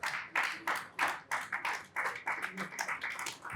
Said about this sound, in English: please, you should not be stingy with your applause